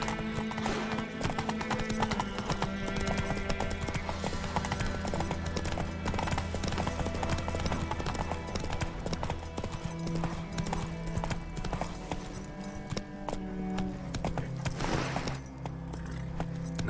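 Roach the horse's hooves clip-clop in a steady walking rhythm in The Witcher 3, a close, continuous patter set against a dense game soundtrack, with an occasional whinny and no speech.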